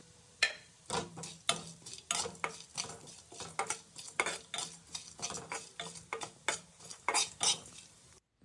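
Garlic frying with lentils in a pan for sambar: a utensil stirs and scrapes in quick irregular knocks over a faint sizzle, close and quiet.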